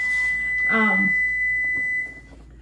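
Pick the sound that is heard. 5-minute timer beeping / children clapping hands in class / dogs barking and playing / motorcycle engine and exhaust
5-minute timer beeping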